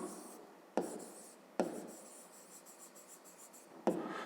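Handwriting for a fifth-grade math exercise: quiet scratchy pen strokes on paper, close and soft, broken by a few sharper taps as the pen touches down.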